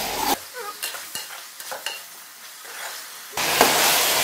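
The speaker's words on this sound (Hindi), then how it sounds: "इसे मुझे 2 से 3 मिनट हो चुके हैं भूनते हुए" Chicken stir-fried in a pan for Malai Handi: bursts of loud close sizzling broken by scraping stirs and spoon taps, then a sustained, hissing fry that swells near the end.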